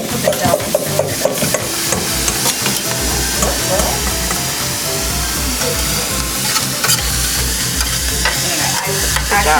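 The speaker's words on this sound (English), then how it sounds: "I'm going to stir it until the yolks are all broken up" Eggs being stirred in a pan to break up the yolks for a spinach and carrot frittata, a close, steady scraping stir with a sizzling fry underneath, continuous and fairly loud.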